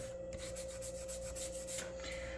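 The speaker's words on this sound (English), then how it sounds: "I'm gonna give it a preliminary sanding here" Steady back-and-forth rasping of sandpaper on a wooden model ship hull, a quiet rhythmic scrubbing over a constant faint hum.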